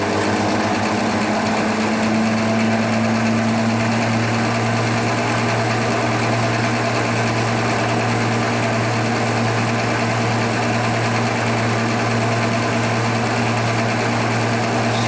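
Sun distributor tester spinning an Olds 4-4-2 W-30 distributor at 570 RPM, a steady close mechanical drone with a strong low hum and constant whirring that runs unbroken throughout with no talk.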